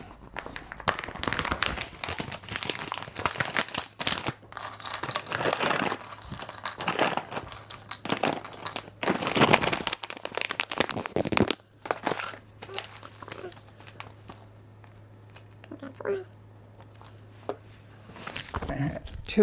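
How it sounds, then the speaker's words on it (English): Homemade peanut butter dog treats tumble into a plastic bag with repeated crinkling and rustling, some louder crunchy bursts, and pauses between handfuls, at close range, with no speech. "So I'm going to fill this bag up, and then I'm done with the peanut butter."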